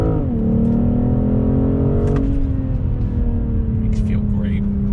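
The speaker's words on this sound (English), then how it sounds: "downshifts, second gear, on throttle," 2021 BMW M440i pulling hard in second gear after a downshift, a loud, close engine drone rising steadily then settling as the revs climb, with voices in the car over the engine.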